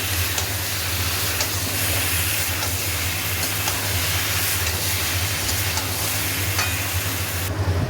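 Chicken with ginger garlic paste sautés in a pan, a steady close sizzle running throughout with occasional scraping stirs and no talking.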